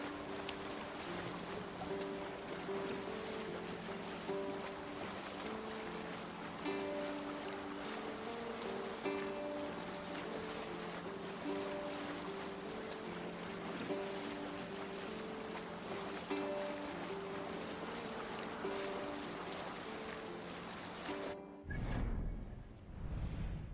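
A Viking longship sails through waves in Assassin's Creed Valhalla, with a steady rush of water and wind and a continuous hull wash, plus a low tonal hum underneath, before it cuts off near the end.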